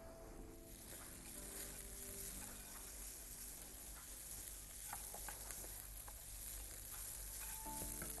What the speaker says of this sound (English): I'm going to add in 2 heaped tablespoons of garlic, chopped or minced as you wish